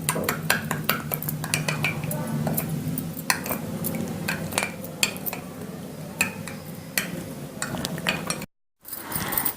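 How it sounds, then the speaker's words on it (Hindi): A spoon stirs and mixes ingredients into milk in a bowl, giving rapid, close clinks and scrapes against the dish in an irregular rhythm, with a brief silent gap near the end. "अच्छी तरह से मिक्स कर लेंगे।"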